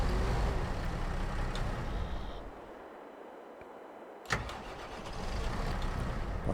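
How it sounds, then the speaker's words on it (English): A vehicle engine in a farming video game cranks and catches, idling loudly, then dropping to a quieter lull before a sharp click and the motor rising back to a steady running drone. "I can start the engine."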